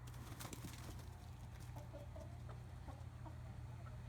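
A heritage chicken rooster clucks in short, scattered calls over a steady low background hum on a farm, moderately close and fairly quiet, with no talking.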